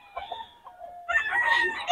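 A rooster crows in a short, bright call that rises in the second half. It is close and fairly loud over soft background clucking, with no speech.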